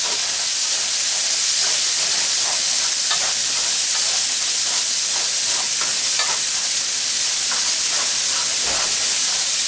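Onion frying in a pan while making a shrimp and lobster paella, a steady loud sizzle and hiss with occasional stirring clicks throughout, no talking.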